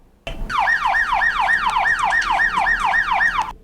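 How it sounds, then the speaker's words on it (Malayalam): A loud, close ambulance siren wails in rapid repeating up-and-down sweeps, heard alone after a brief quiet start. "വഴി മാറിത്തരണം എന്നാണ് ഈ ഒരു സൈറൻ സൂചിപ്പിക്കുന്നത്"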